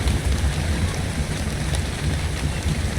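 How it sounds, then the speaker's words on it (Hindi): Steady rain in the video game Ark on The Island map, a dense continuous hiss and patter with a low rumbling undertone, no speech over it. "बारिश।"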